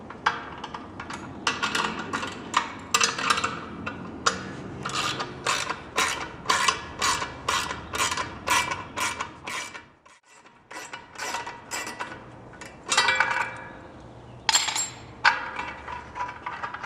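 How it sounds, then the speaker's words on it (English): Hands working on a Wanderfin kayak drive, removing the fin and fitting nylon spacers, with a steady run of close clicking, ratcheting and rubbing mechanical handling noises and a brief pause midway. "We're going to remove the fin from the drive itself and put the nylon spacers in place."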